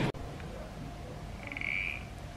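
A toy frog gives a croak when squeezed, a short bright squeaky call in the middle of the clip, heard close up in a quiet home.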